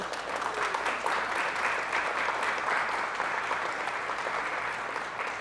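An audience at a senior resource fair applauds to welcome a speaker, with sustained, even clapping from a room full of people continuing throughout.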